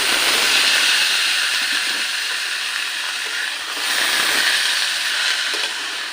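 Fresh radish greens tossed into a hot pan of browned oil give off a loud, continuous broadband sizzle that dips briefly midway and then swells again, with no voices over it.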